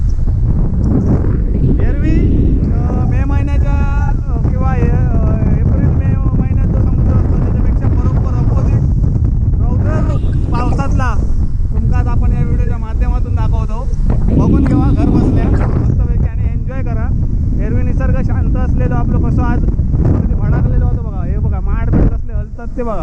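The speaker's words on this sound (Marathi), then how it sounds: "आवाजावर तुमका समजत असेल की स्पीड स्पीडने वारो" Strong wind rumbles and buffets the microphone throughout, while someone talks loudly over it.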